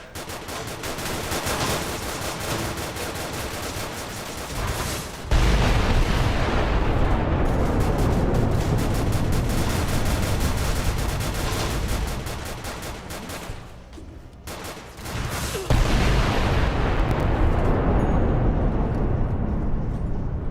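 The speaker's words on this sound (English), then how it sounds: "Oh god, I love this rocket launcher. Nuke launcher, basically." A rocket launcher, the nuke launcher of Fallout: New Vegas, fires and detonates in heavy blasts, with loud booming explosions and rumbling debris that go on across the stretch, starting near the fifth second, with a fresh burst later on.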